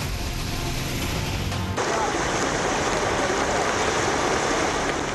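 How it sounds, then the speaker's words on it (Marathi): Floodwater rushes like a river through Andheri subway during heavy Mumbai rain, a loud, dense, continuous roar of flowing water that thickens after a moment, with no voices. "अंधेरी सबवेमधून एखाद्या नदीप्रमाणे पाणी वाहतंय।"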